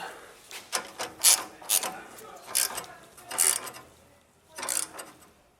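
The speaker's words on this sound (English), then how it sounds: "tighten these ones up first and then tighten these ones up after to ensure that the bracket sits where it wants to sit" A ratchet tightens the X-pipe bracket bolts under an E92 BMW M3, producing several short bursts of close clicking and grinding separated by brief pauses, with no talk.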